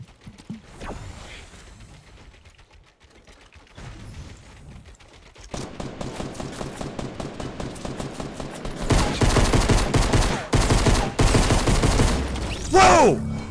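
Rapid pistol gunfire in Fortnite, a quick string of sharp shots that grows louder and denser toward the end, with a mechanical clatter and a brief quieter stretch before the shooting builds.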